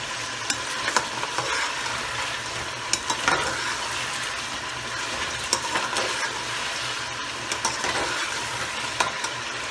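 Garam masala and spices frying in a pan for a Pakistani student biryani, giving a steady broad sizzle with intermittent scraping stirs and utensil clicks throughout, fairly close and without talk.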